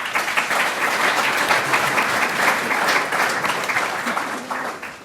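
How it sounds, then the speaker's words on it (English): An audience at a panel discussion on cities gives a full round of applause, loud and sustained for about five seconds before easing off at the end, with no voices over it. "please give them a round of applause"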